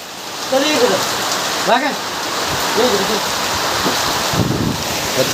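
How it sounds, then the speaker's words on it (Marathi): Heavy rain hisses throughout in a village as a dense, even wash of noise, with a few faint birdlike chirps and brief voices rising above it. "जोरदार पाऊस पडला लागला बाहेर"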